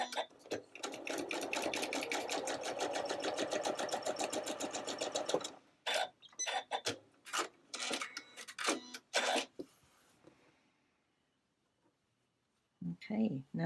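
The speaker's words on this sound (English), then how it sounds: "And I'm sewing the yellow side together." A sewing machine stitches quilt block seams in yellow fabric, a fast rhythmic run of needle clatter lasting several seconds, then short stop-start bursts, a pause of near silence and a final brief burst.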